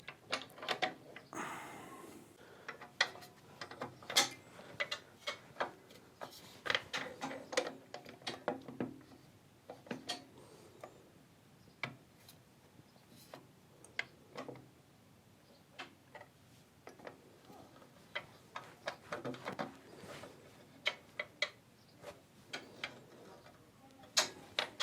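The locking handle on the fence of a Record Power PT260 planer thicknesser is loosened and tightened, giving a long run of dry ratcheting ticks and clicks in uneven bursts, close and fairly quiet, with no talk.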